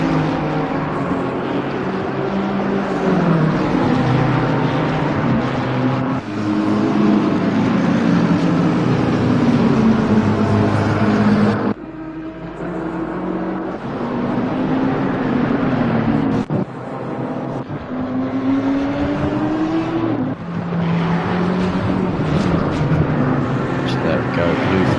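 Race car engines roar in Assetto Corsa Competizione at Misano, a steady sustained drone with pitch sweeping up and down through gear changes as cars battle closely, a Ferrari among them, under continuous race commentary.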